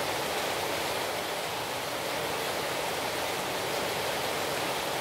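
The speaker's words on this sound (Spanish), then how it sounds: "La lluvia hace un poco más cansado mi camino, más largo también. Pero por suerte solo hay que esperar, ya que cae mucha agua" Heavy rain pours down in Sri Lanka on the way to Ella. It makes a loud, unbroken hiss that stays close and steady throughout, with no voices.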